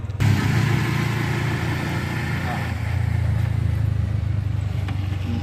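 A Maxima Z auto rickshaw with freshly fitted steering taper roller bearings drives along a road, its engine a steady mid-pitched drone up close.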